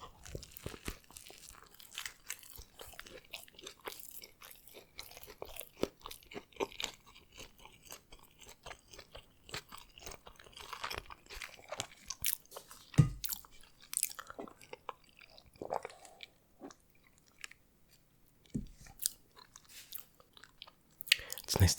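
Someone chews a Subway footlong turkey sub close to the mic, with soft, irregular crunchy bites and wet chewing spread across about twenty seconds, a few louder bites punctuating quieter mouth sounds.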